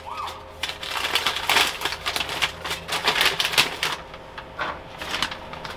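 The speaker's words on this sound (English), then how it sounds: "see if that'll show you the fan blowing." A sheet of paper flutters and rattles in the airflow of a running fan in a bonsai cold frame, giving rapid papery flapping bursts over a steady low fan hum.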